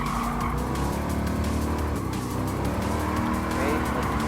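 Tires squeal and skid as a race car drifts through a turn in Gran Turismo Sport, the screech running continuously over a loud, steady engine drone for the whole stretch.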